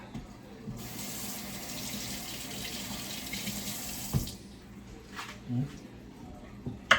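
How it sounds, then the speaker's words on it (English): Tap water runs into a sink while okra is washed, a soft steady splashing stream for a few seconds before it stops, followed by light clatter and handling noises. "We gotta wash these bad boy off."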